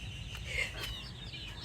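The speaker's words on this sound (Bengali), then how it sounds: "মুরগিকে খাইতে দিব। মুরগি খুশি হয়ে যাবে পাস্তা আর পুডিংটা দেখে।" Chickens clucking softly at feeding time at night as pasta and pudding are put out, a few short murmured calls close by over a low background hum.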